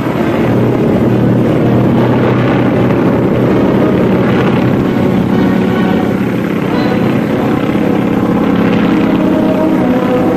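Propeller aircraft take off in flights at a 1951 Soviet air fleet day parade, making a loud, unbroken droning roar that fills the whole stretch at a steady level.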